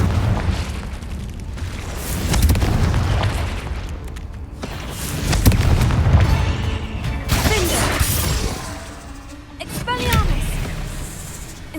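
Confringo fire spell in Hogwarts Legacy, cast inside a cave: several heavy booming explosions with crashing bursts and rumbling, rising and falling in waves across the clip, with magical whooshes and some talk mixed in.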